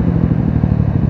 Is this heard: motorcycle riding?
yes